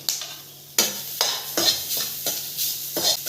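Grated coconut and curry leaves dry-roasting in a pan, stirred in a series of scraping strokes over a faint steady sizzle, close and moderately loud, with no talking.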